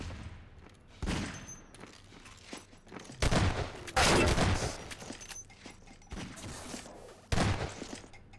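Rapid submachine-gun fire in Half-Life 2 Deathmatch, a 1v1 match fought on a bottom floor, coming in several loud bursts with short gaps between them and a faint rumble of game ambience underneath.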